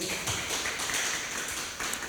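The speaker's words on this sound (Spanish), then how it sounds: "Dele un aplauso al Señor en el nombre de Jesús." A church congregation applauds in a steady, dense wash of clapping that carries on without a break for a couple of seconds.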